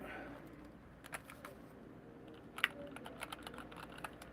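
Typing on a wooden-sided keyboard with magnetic electrical switches, soft and fairly quiet keystrokes arriving in a loose irregular rhythm, with a single sharper click.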